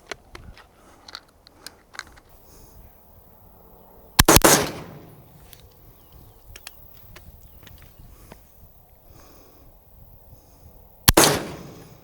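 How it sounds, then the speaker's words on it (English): A rifle fitted with a hybrid suppressor fires on a binary trigger, and two sharp, loud reports come several seconds apart at a range against a quiet background with small handling clicks in between. "that was actually 3 rounds. I actually had it on binary, didn't mean to, so the first 2 went quickly, then the third one slower"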